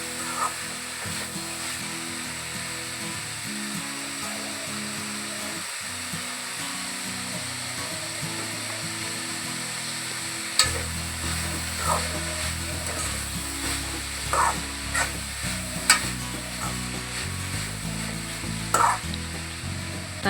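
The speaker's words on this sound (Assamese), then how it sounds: "তাৰ পাছত ধুনীয়াকৈ লৰাই আছোঁ।" Masoor dal frying in a pan with turmeric and salt, stirred with a utensil: a steady, soft sizzle throughout, with occasional scraping clicks of the spoon against the pan later on, no talking.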